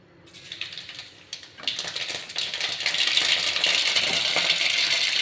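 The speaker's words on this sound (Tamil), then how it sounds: "எண்ணெய் காஞ்சிருச்சு, கடுகு போட்டுக்கலாம்." Mustard seeds hit hot oil and begin spluttering, a crackling, popping sizzle that starts faintly and swells into a dense, steady hiss of rapid pops.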